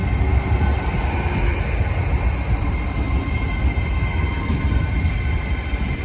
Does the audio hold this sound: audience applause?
no